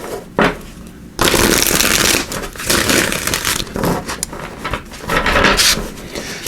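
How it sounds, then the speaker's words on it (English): Tarot cards are shuffled in several quick riffling bursts, close and crisp, separated by short pauses. "So get these a good shuffle too, get the energy flowing in them."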